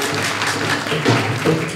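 An audience claps together during a Hindi spiritual discourse given by a saint, a dense wash of applause over a low murmur with no clear speech.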